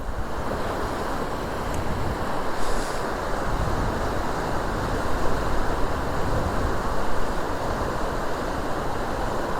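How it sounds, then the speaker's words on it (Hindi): The Nubra River in Ladakh rushes beside a mountain road, a steady, loud broadband roar of flowing water with some wind buffeting, no voices. "फील करिए नुब्रा रिवर की साउंड को, फील करिए"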